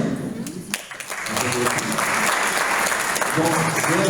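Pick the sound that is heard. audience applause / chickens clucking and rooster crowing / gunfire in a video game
audience applause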